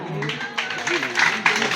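Applause at a school celebration, a brief patter of clapping mixed with voices talking over it, moderately loud in a reverberant hall.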